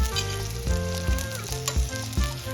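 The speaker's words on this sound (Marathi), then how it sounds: "फक्त मिरच्या आणि गवारीच्या शेंगा तेवढ्या आपण तेलामध्ये परतून घेतलेल्या आहेत" Green chillies and cluster beans frying in oil give a steady, close sizzle, broken by a few soft knocks of stirring, with no voices.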